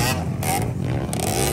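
Enduro motorcycle engine revving during a local final heat race in Poblacion, Quezon, a close, rising and falling mid-pitched engine drone with rattling harmonics.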